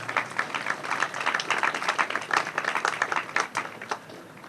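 Audience at the Milwaukie City Hall 75th anniversary celebration applauding the minstrel singers, a lively burst of many hands clapping at moderate distance that thins out toward the end.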